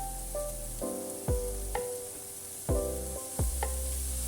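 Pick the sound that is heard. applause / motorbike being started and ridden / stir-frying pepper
stir-frying pepper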